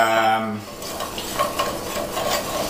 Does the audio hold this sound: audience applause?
no